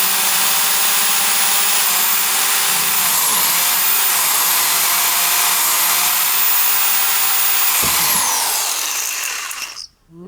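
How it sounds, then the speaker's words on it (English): A loud, continuous high-pitched power drill whine drilling out rivets on an Onan P218 engine intake manifold, nearly unbroken for several seconds, then cutting off abruptly at the end. "I gotta drill them out."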